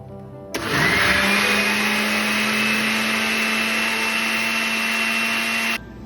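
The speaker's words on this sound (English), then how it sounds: "I might need a larger blender." A blender whirs loudly and steadily for about five seconds, starting abruptly and cutting off sharply, with a sustained motor hum.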